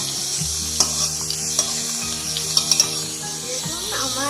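An egg fries in a pan with a light continuous sizzle, joined by a few sharp clicks and scrapes of a utensil against the pan. A low steady hum runs underneath.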